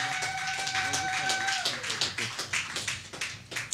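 A church congregation applauding, with rhythmic, fairly close clapping that grows more distinct toward the end, while sustained musical tones and voices sound over the first half.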